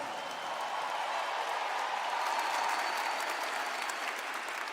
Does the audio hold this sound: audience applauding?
yes